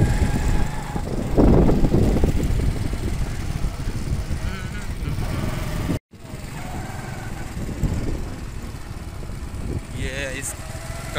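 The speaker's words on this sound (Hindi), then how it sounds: "इस कमरे के अंदर जो है ना टरबाइन लगी हुई है, वैसे मोटर नहीं अभी लगाई, ट्रैक्टर पे चलाते हैं।" A turbine set up inside a room on a farm, driven by a tractor instead of a motor, gives a steady loud rumbling engine drone that runs throughout, briefly cut off midway, with people talking over it.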